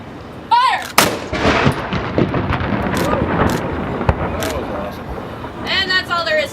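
Ceremonial cannon firing aboard the historic sailing warship Constellation, with a single loud, booming blast following a spoken command, then a long rumbling echo under crowd noise and distant voices.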